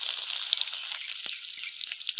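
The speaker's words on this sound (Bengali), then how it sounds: "পেঁয়াজটা ভেজে নিয়েছি" Chopped onion frying in hot oil with pancharon spices gives a steady, hissing sizzle up close, even and unbroken, with a faint tap or two and no voices.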